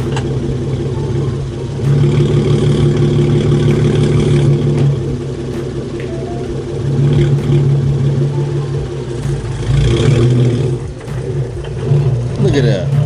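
A Hyundai Genesis Coupe engine hums and revs in surges while driving close by, with voices talking over it.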